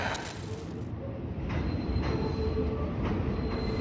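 A New York subway train passes outside an apartment window, a steady close rumble with wheel squeal and a faint rhythmic clatter, with no talking.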